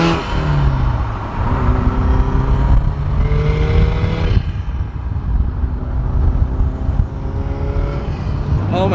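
Tuned Subaru WRX STI turbo engine revving hard on a dyno, loud rising and falling harmonic sweeps with a gap near the middle and crackling exhaust pops, close and continuous.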